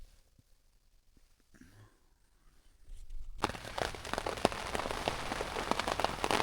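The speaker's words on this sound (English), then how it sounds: "Still raining," Rain drumming on a tent while camping alone in the wild, starting quiet with faint patter and then a steady, dense close-up pelting that continues to the end.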